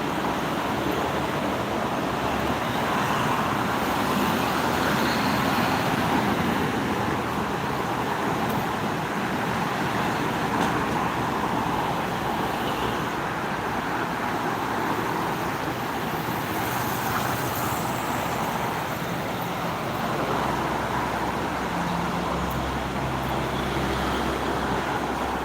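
Continuous broad roadway noise from slow, stop-and-go jammed traffic on the Jakarta–Cikampek toll road during the holiday exodus, a steady moderately loud hum of engines and tyres with no voices.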